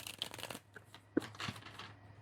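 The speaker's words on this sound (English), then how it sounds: "This is a hard deck to shuffle." A stiff, hard-to-shuffle deck of oracle or picture cards being shuffled during a card reading, giving soft riffling rustles and a sharper snap about midway, close and fairly quiet with no talking.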